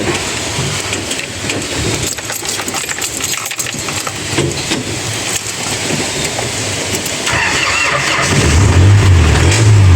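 An Isuzu 4BE1 diesel engine in a jeep starts after its injection system has been bled. A loud, rough mechanical noise gives way near the end to the engine catching into a low, throbbing idle.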